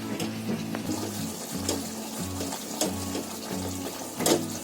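Yogurt and guava chutney with onion, garlic and spices simmers and sizzles steadily in oil, a soft constant bubbling sputter. Music repeats in the background.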